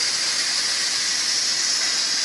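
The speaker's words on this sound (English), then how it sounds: "To steam, so it's venting." An Instant Pot pressure cooker vents steam after cooking a whole chicken, giving a steady, loud, continuous hiss that holds without a break.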